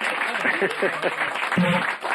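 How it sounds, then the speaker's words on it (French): An audience claps steadily in a brief burst while a voice talks over the applause. "on vous applaudit"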